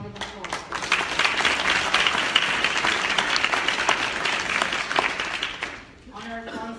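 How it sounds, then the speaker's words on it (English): Audience at the 7th Elaine Bryan Foundation Inspirational Luncheon breaks into sustained, dense applause that fills the room for several seconds before thinning out at the end. "Congrats, round of applause."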